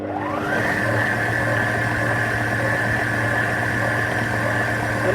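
An electric stand mixer beats creamy cake batter with vanilla essence, a steady loud motor whir with a rising pitch as it spins up in the first half second, then holding constant throughout.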